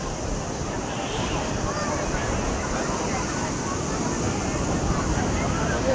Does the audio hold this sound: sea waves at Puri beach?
yes